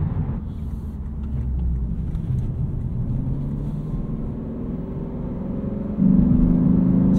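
Full-throttle acceleration in a 2023 Lexus IS 500 in normal drive mode, a steady engine rumble and road roar heard from inside the cabin, rising louder near the end with a strong low tone.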